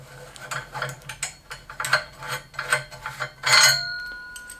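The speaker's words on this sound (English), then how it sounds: "Now we're going to remove this bolt first, then this one second." Metal clicks and scrapes come in quick irregular bursts as bolts are worked loose with an Allen wrench on an Echelon exercise bike frame, close and moderately loud, with no speech.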